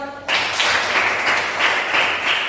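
A class of students claps together in a classroom, a dense, steady burst of many hands starting abruptly after a brief pause and continuing evenly.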